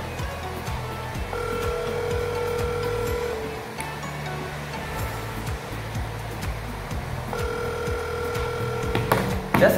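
Outgoing phone call ringback: two long, steady electronic ring tones separated by a pause of several seconds, heard over a constant low background rumble with no talking.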